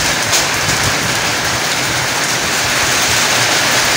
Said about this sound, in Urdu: بہت تیز بارش اور بہت تیز ہوا